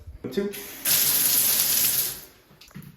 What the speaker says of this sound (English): I'll turn on the water real fast.